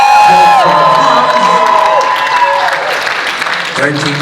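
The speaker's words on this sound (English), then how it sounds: "Hold for applause." Costumed crowd at a Halloween Comic-Con haunt event bursts into loud applause with cheers and whoops, mixed with tonal music and voices, then the clapping thins out toward the end.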